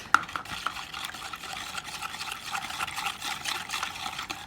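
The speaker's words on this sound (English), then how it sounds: "Okay, give that a good whisk." A marinade of brown sugar, garlic cloves, fresh lime juice and vegetable oil is whisked briskly in a bowl, with a steady run of quick, light ticking and swishing strokes, close and fairly soft, and no talk.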